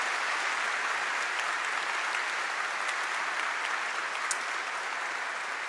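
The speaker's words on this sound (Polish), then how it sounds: "proszę o ogromne brawa," A large audience applauds at a gala marking the 25th anniversary of the Silesian Voivodeship regional government, dense steady clapping that holds at an even loudness throughout.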